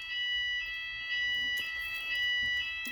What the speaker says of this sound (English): it's the alarm in the shop